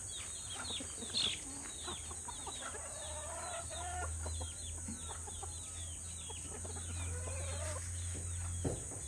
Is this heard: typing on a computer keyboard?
no